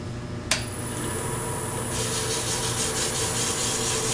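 A piece is lightly sanded by hand with 400-grit sandpaper over a CA finish. A sharp tap opens a continuous rasping rub that fills the rest of the clip, near and fairly steady, with no talk.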